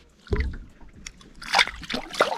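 A smallmouth bass released back into lake water, a close thump followed by short sloshing splashes and light trickling as the fish slips away.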